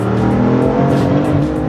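BMW F80 M3 accelerates hard in a short, loud pull, the engine note rising steadily with boost whooshes pulsing above it, heard close from inside the car.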